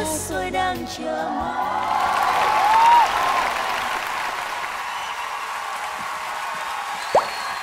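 Studio audience applause with scattered cheers after a duet by two masked singers on the Vietnamese TV singing show Mặt nạ ngôi sao, fading a little toward the end.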